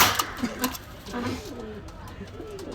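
A pair of red checker racing pigeons coo in soft rolling phrases inside a pigeon shop, the calls close and intermittent with someone talking over them.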